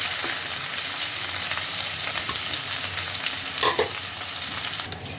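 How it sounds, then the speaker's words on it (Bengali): Paneer cubes fry in a kadai with a steady, loud, bright sizzle throughout, broken by a few stirring scrapes and clatters near the end. "পনিরগুলো হালকা করে ভাজা হয়ে গেছে"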